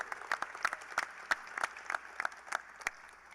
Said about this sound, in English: How about a round of applause for Derek Wittenberg?